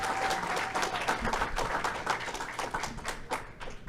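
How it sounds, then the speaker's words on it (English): A crowd applauds, steady dense clapping that holds for several seconds without any voices. "Give them guys a round of applause."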